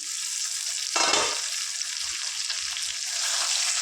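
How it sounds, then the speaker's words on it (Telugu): Chicken pieces fry in hot oil with a steady, hissing sizzle, swelling into a louder crackling surge for a second before settling back to a continuous bubbling fry, close up and with no voices. "ఈ విధంగా చక్కగా ఆయిల్లో ఫ్రై అయ్యాయి"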